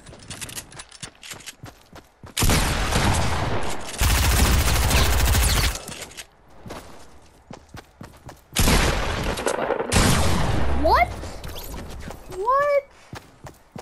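Gunfire in Fortnite from a sniper fight: loud sharp blasts break in separately between quieter stretches, each followed by a long rumbling tail, along with brief rising whooshing game effects near the end; a player talks in parts of it.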